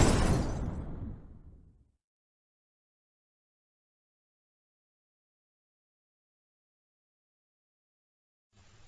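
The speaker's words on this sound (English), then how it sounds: "From within the darkness erupts an explosion." Explosion sound effect bursting loud out of silence, a broadband blast that decays over about two seconds into quiet, with a brief faint return of noise near the end.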